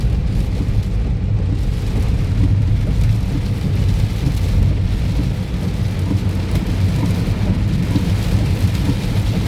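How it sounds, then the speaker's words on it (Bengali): Heavy rain pours down continuously on the highway from Cumilla to Dhaka, a dense steady roar with low rumbling beneath and no voices. "কন্টিনিউ বৃষ্টি চলছে"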